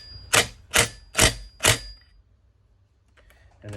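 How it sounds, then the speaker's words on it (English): An impact wrench tightens a bolt on a Suzuki DRZ 400 engine during crankshaft work, giving four short, sharp hammering bursts about half a second apart, close by, then near silence. "go ahead with the impact and just tighten it up"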